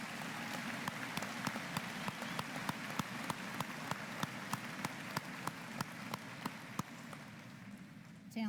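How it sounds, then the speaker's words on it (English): Steady applause from a crowd at a high school graduation, a dense patter of many hands with a few sharper claps standing out, continuing evenly throughout. "Let's give them another round of applause."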